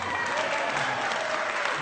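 An audience at a talk on democracy and progressive policy breaks into brief, dense applause. The steady clapping fills the room.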